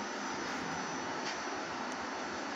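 An engine hooked to a Raspberry Pi diagnostic display runs at a steady idle, a faint, continuous droning hum with a slight low pulsing and no voices.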